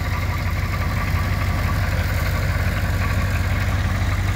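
A 1985 Oldsmobile Cutlass Supreme diesel engine idles steadily and close by, its low rhythmic clatter continuous throughout with no voices.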